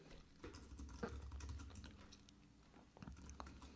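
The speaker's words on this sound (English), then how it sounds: "So what we do is we type into Google" Keys clatter in steady, rapid bursts as someone types a search query on a computer keyboard, close up and clear, with a low background hum and no talk.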